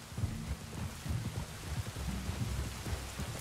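A downpour in a Red Dead Redemption 2 thunderstorm keeps up a constant wash of rain, with deep rolling thunder rumbling low and continuous beneath it, and no voices.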